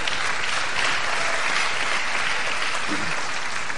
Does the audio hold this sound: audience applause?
yes